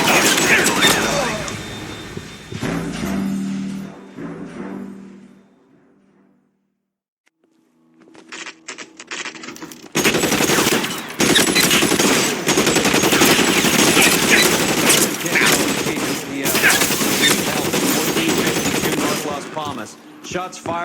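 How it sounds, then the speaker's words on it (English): Sustained gunfire in a police shootout in L.A. Noire, with dense bursts of automatic weapons and rapid shots rattling loudly, briefly dropping out to a quiet pause before resuming heavily. "Shots fired."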